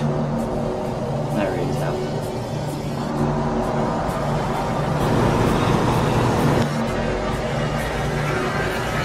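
A 2014 Ford Focus drives along, its engine and road noise a steady close whir that swells slightly as it accelerates, with muffled talk inside the car.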